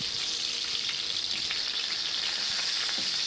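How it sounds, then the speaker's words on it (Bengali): Pieces of katla fish fry lightly in a pan, giving off a close, continuous sizzle that stays even throughout. "হালকা করে সবগুলো মাছ আমি ভেজে নিব"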